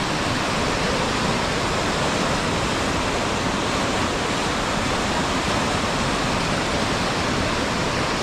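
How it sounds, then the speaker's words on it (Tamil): A river rushing through Pahalgam, Kashmir, heard up close as a loud, steady roar of churning water, continuous and unbroken, with no voices. "அழகான தண்ணி பாருங்கள், எப்படி போகுது பாருங்கள்."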